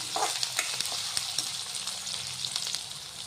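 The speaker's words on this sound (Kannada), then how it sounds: "ಸ್ವಲ್ಪ ಕಲರ್ ಚೇಂಜ್ ಆಗೋವರೆಗೂ ಫ್ರೈ ಮಾಡ್ಕೊಳ್ಳಿ ಈರುಳ್ಳಿ" Onion and curry leaves fry in a pan, a bright continuous sizzle with frequent quick stirring scrapes from a spoon, close and fairly loud.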